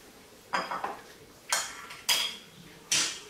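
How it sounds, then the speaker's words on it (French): Utensils clinking against a dish while gruyère cheese is mixed into pasta, a handful of distinct close scraping clinks spaced unevenly over a few seconds with quiet gaps between. "vous mélangez"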